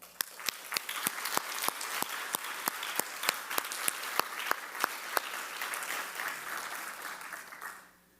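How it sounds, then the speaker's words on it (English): Audience applause after a dance performance at an awards ceremony, a steady wash of clapping with sharp individual claps standing out, sustained for several seconds before fading out quickly at the end. "Let's keep the applause going for the uplifting and inspiring dance performance by Parul Shah."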